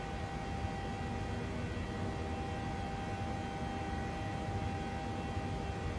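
Boeing 737-800 engines in a PMDG flight simulator model, on a Southwest route from Oakland during the climb: a steady, low, even roar with a hiss, heard from the cabin at moderate level with no talking.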